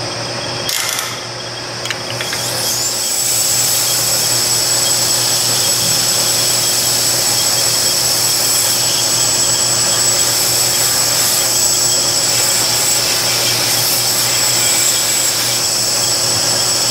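An 800 grit sandpaper works over a handmade knife blade in a steady, continuous abrasive hiss that stays loud and even through the clip, with a constant hum beneath.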